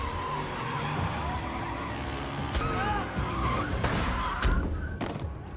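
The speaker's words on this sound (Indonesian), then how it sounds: "Yang buat kejar-kejaran pakai mobil pun terjadi." Car chase in an action film, with engines roaring and tires skidding and squealing amid dense, loud soundtrack layers, with sharp impacts near the end.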